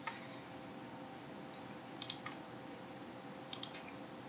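Quiet bursts of computer keyboard typing while code is entered, a few short clusters of clicky keystrokes separated by pauses over a faint room hiss.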